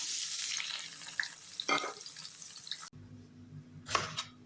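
Chopped onions frying in a pan in a home kitchen, a soft sizzle for the first few seconds, then a quieter stretch with a couple of brief stirring scrapes.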